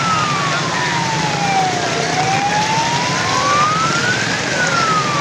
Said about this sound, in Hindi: और सायरन की आपको आवाज़ें आ रही हैं।